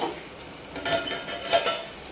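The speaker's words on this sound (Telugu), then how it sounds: "సాల్ట్ వేసిన తర్వాత ఇదంతా ఒకసారి ఈ విధంగా కలుపుకోవాలి" Bitter gourd pieces with salt are stirred in a pan, giving several scraping, rustling strokes at a steady rhythm over a soft, low sizzle, close and fairly loud.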